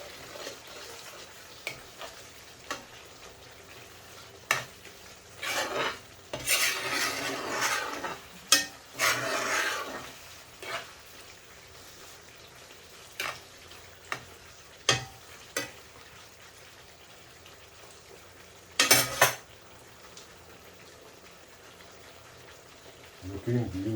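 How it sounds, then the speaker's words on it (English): Chicken tikka balti with garlic, chilli and chopped fresh coriander is stirred in a korai pan. Soft, intermittent scraping and sizzling bursts come through between stretches of talk and quiet. "Let's give that a stir."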